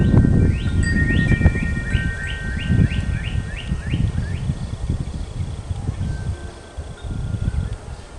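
Birds around a robin's nest being raided by a blue jay give a quick run of repeated high chirps early on, then a few scattered calls, over steady wind and rustling.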